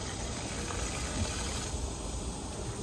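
Water gushes steadily from a garden hose beside a pool, a continuous even hiss and splash with no pauses.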